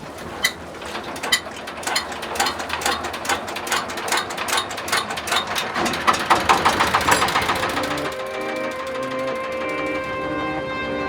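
A chugging boat engine runs nearby in Bangladesh with rapid rhythmic pulses, settling into a steadier hum toward the end.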